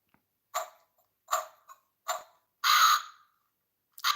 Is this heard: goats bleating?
no